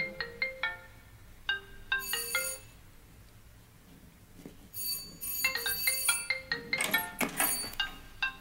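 A telephone ringtone plays in bursts of bright electronic melodic beeps, loud and close, with short pauses between phrases and a denser flurry of tones near the end.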